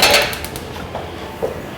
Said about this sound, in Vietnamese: mình bắt cái nồi lên ha, nồi lên